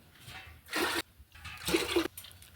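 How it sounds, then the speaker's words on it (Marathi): Two short bursts of water pouring into a hot pressure cooker, each lasting about a second, with quiet between. "कुकर जर गरम झाला की त्याच्यामध्ये पाणी घालायचं आहे"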